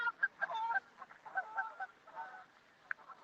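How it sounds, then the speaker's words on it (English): Canada geese honk on a park lake, a chorus of overlapping nasal calls at moderate distance, fairly faint and continuous for a few seconds before tapering off. "I've got a lake here, look, with Carder geese on"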